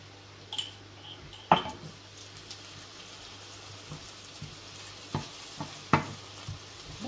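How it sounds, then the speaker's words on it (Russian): Onion stirred in honey in a pan for calf liver with fruit vinegar: a faint, quiet sizzle under a few soft scraping stirs and light clinks spread across the stretch. "мы этот лук пару минут мешаем."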